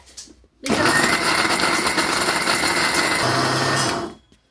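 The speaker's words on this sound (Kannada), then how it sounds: "ಒಂದ್ ಬಟ್ಲ ಹಾಕೊಂಡು ಸಣ್ಣ ಮಿಕ್ಸರ್ ಹಾಕೊಂಡು ಇದನ್ನ ಮಾಡ್ಕೊ" A small mixer grinder whirs loudly and steadily for about three and a half seconds while grinding cardamom, dry ginger and poppy seeds, starting abruptly and spinning down at the end.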